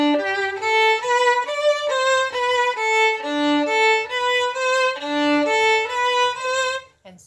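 Violin playing the opening of an etude: a clear solo line of separate bowed notes moving up and down in an even rhythm, close and fairly loud, ending with a brief bump.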